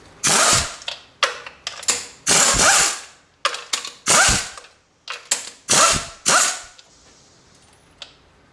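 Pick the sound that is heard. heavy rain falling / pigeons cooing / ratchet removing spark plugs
ratchet removing spark plugs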